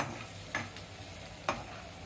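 Tempering sizzles in a hot pan for a ridge gourd dish, a continuous frying hiss broken by two sharp stirring scrapes, close and without talk.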